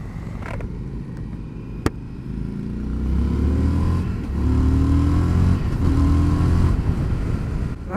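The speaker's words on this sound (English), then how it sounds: "That's a nice sounding acceleration." An Indian FTR S motorcycle from 2021 accelerating hard, its engine note rising steadily through the revs, close and loud, with a sharp mechanical click early on and no talk.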